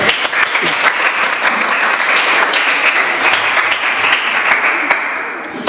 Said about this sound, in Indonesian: kita berikan aplaus untuk kelompok 1